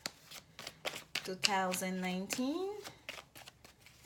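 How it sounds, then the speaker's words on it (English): A deck of tarot cards is riffled and shuffled in quick repeated bursts of crisp flicking, close by, while someone speaks over part of it. "I'm just doing a little bit more shuffling on camera"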